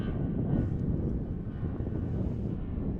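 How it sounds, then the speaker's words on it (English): An American Airlines Airbus jet departs Dallas Fort Worth International Airport, giving a steady, broad engine roar heard from a distance with some wind buffeting on the microphone. "as we check out the old Airbus departing on American Airlines"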